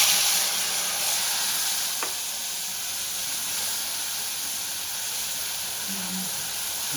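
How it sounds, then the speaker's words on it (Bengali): Soaked spice paste sautés in hot oil with a strong, steady broadband hiss and sizzle close by, a faint knock or two of stirring underneath, no speech. "মশলাটা ভালো করে কষাবো"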